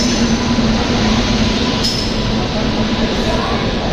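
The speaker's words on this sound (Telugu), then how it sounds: "మన పక్కన ట్రైన్ వచ్చింది ప్లాట్ఫామ్ నెంబర్ 1 మీద." The Cherlapalli–Kanyakumari weekly express pulls in beside platform 1, a loud, continuous roar of rolling wheels and cars close by, steady throughout with a brief squeal partway, and no talk.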